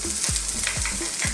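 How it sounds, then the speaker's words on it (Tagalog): Ginger sizzles in hot oil in a pan while a Filipino-style sweet and sour shrimp is prepared, a steady bright frying hiss broken by a few soft, evenly spaced low knocks. "mainit na yung ating mantika. Lalagyan na natin yung ating ginger"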